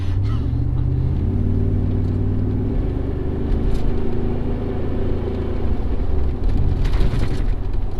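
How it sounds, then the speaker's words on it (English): A worn-out car engine revs hard and loud up to its rev limiter during a session of burnouts and off-roading, a close, rumbling roar that swells and surges. "Hit the rev limiter there."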